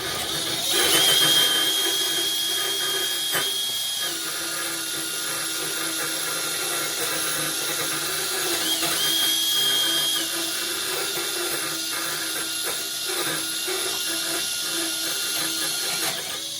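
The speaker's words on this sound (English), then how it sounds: "I add it on my drill and I use my drill in here" Power drill fitted with a cleaning brush scrubbing the evaporator of a Viking beverage center refrigerator, a steady whirring grind running throughout, close and fairly loud with brief higher-pitched whines as the speed changes.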